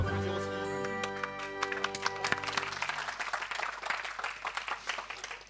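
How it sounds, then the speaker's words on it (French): An audience applauds at a ceremony, a burst of scattered clapping rising after a fading musical tone and continuing briskly to the end. "Quand il y a des applaudissements, c'est quand même beaucoup plus agréable de présenter."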